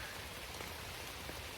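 Rain falls steadily outside, a soft, even hiss of drops across the whole moment, faint and continuous with no voices.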